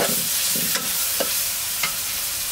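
Turmeric, chilli powder, mixed spice powders and salt sautéing in a pan: a steady close sizzle broken by a few soft scraping stirs, with no voices.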